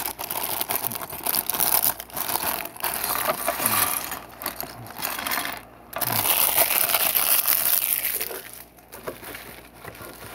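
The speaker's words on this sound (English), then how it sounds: "Gotta get that trash plastic bag ASMR out of the way, right?" Plastic trash bag crinkled and rustled up close, with continuous loud crackling and crumpling, a brief pause around the middle and sporadic sharper tears.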